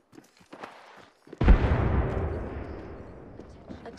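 A frag grenade in the Apex Legends video game goes off with a sudden deep boom and a long rumbling decay, following brief game sounds and a player's voice.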